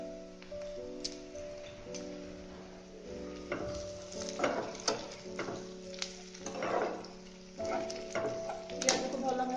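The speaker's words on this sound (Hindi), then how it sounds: "पियाज को भल भाव भाजवा देवा आम। पियाज फ्राए हो गलानी।" Chopped onions sizzle in a pan for a paneer spring roll filling, a quiet crackling fry with small pops and stirring scrapes over a faint steady hum.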